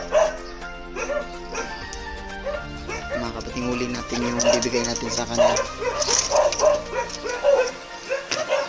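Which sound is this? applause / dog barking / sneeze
dog barking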